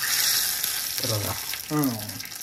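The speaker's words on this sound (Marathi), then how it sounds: "आता मस्त त्याला तडका मारून घ्यायचा. असं तडका मारायचा." Tadka tempering for a chutney, a close hissing sizzle with two short bursts of spluttering over a steady background crackle.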